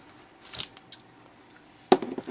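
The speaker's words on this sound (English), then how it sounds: "then stamp it right about here on the card" An inked rubber stamp is pressed down onto a paper card, giving two crisp, close taps about a second apart against a quiet background.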